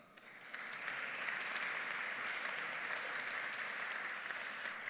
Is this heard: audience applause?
yes